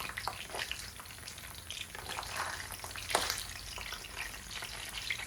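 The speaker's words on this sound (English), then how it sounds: "Then we'll let them fry for about another 5 minutes or until they're nice and dark brown on the other side." Brussels sprouts pan-frying as a vegan side, giving a continuous crackling sizzle with irregular pops and spatters, close and steady throughout.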